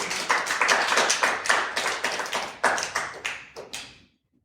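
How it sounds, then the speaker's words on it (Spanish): Church congregation applauding during a Spanish-language sermon, a burst of clapping lasting about four seconds that thins into sparse individual claps before stopping. "Dele un aplauso al Señor por eso."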